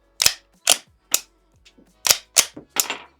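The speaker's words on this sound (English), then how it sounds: "So you can see, it's just snap caps. So that one's going to eject, load a new one in" Snap caps cycle through a handgun in a series of six sharp, close metallic clacks, each slide action ejecting one and chambering the next, spaced about half a second apart with one faint click between.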